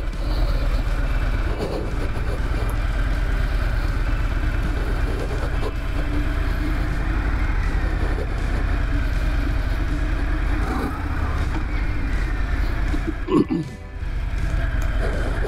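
A Harley-Davidson Breakout 114 FXBRS motorcycle rides through town, its engine a steady low droning rumble with wind noise throughout and a brief bump or clunk near the end.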